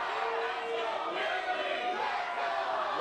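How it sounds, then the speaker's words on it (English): A live wrestling show crowd cheers and roars in a steady, dense wall of noise, loud and continuous throughout with no clear breaks. "Wow, this crowd is on fire."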